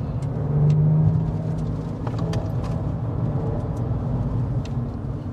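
A Porsche 996 Carrera with its 3.6-litre flat-six engine pulls hard, a steady engine drone swelling loudly in the first second then holding a sustained road roar throughout.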